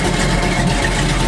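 A car engine fitted with an Edelbrock AVS2 carburetor idles steadily, a continuous low rumbling drone heard close and loud for a brief moment with no talking.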